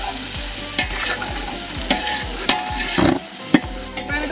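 Green chilli, ginger and crushed garlic sizzling in a pan while being stirred, with rhythmic scraping strokes of the spoon repeating about once a second over a steady frying hiss.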